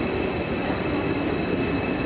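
An ICE high-speed train rushing past at a German railway, a loud, steady roar of wheels and air close by for the whole moment, with no voices.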